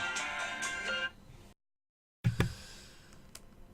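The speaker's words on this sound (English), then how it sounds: "You have a phone call." A phone ringtone chimes during a podcast chat: a bright, melodic tone pattern that plays for about a second, breaks off into brief silence, then returns with a few sharper tones.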